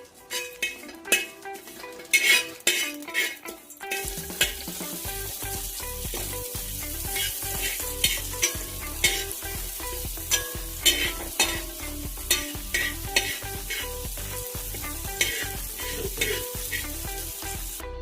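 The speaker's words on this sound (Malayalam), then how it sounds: "കറിവേപ്പില പൊരിയുമ്പോൾ നമുക്ക് കൊച്ചുള്ളി ഇട്ട് കൊടുക്കാം." Curry leaves and shallots fry in oil in a pan for a chicken curry, a loud continuous sizzle broken by repeated scrapes and clinks of a spoon stirring against the metal, with no voices.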